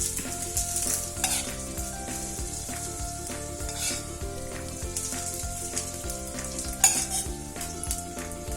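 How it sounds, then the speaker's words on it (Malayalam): Hot oil with mustard seeds poured over steamed dhokla, a steady close crackling sizzle that runs the whole time with small spits and pops and one brief louder splash near the end, no voices. "ഈ എണ്ണയും കടുകും ഒഴിച്ചു കൊടുക്കുക"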